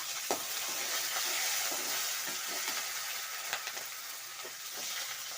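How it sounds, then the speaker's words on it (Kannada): Curry leaves and Byadagi chillies sizzle and crackle in hot oil, a steady hissing fry broken by sharp pops and stirring scrapes, heard up close with no talking. "ಹಾಕಿ ಒಂದ್ಸಲ ಫ್ರೈ ಮಾಡ್ಕೊಳ್ಳಿ ಎಣ್ಣೆಯಲ್ಲಿ ಕರಿಬೇವು ಮೆಣಸಿನ್ಕಾಯಿ"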